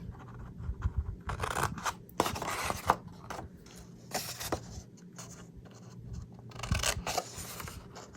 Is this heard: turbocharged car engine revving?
no